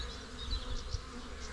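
Honey bees buzzing around an open hive during a spring inspection after winter, a soft continuous droning hum close by with no voices.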